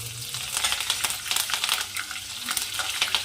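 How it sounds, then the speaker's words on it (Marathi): Cumin seeds, bay leaf and green chili hit hot oil in a pan and give a steady close crackling sizzle with small pops and bursts of stirring throughout, with no talking. "तेल तापलं पण यामध्ये आपण जिरा ॲड करू एक चम्मच आणि तेजपत्ता हिरवी मिरची"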